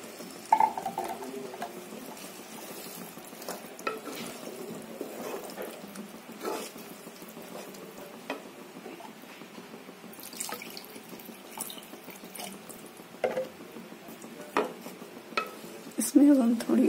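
Masala paneer gravy being stirred in a pan just after water is added, with steady watery sloshing and light scraping at moderate level, occasional louder clinks of the spoon against the pan, and no talk.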